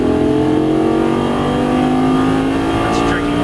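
Lamborghini Gallardo on a race track, its engine revving hard under acceleration, a loud steady rising drone filling the cabin throughout, with an instructor's voice over it.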